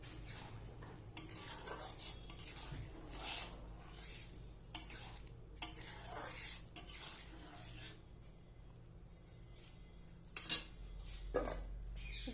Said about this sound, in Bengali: এবার ভালোভাবে নাড়ব।